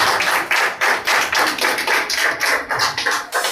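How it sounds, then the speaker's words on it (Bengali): Loud applause at a picnic prize-giving for a small child, a dense crowd of clapping hands that rises and falls in bursts without pause. "একটা জোরে হাততালি।"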